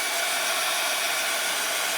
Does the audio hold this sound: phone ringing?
no